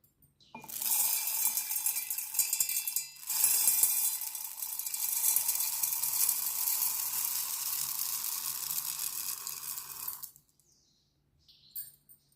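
A kitchen mixer grinder whirs at high speed as it grinds dry urad dal into fine powder, running as a loud, steady close whine for about ten seconds before stopping.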